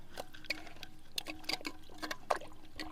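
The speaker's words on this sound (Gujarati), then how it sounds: "સૌથી પહેલા આપણે લીલી હળદરને પાણીમાં એકદમ વ્યવસ્થિત રીતના ધોઈને સાફ કરી લેશું" Fresh green turmeric being washed in water, with quiet intermittent splashes, trickles and drips as the roots are rubbed and moved by hand, fairly close and faint.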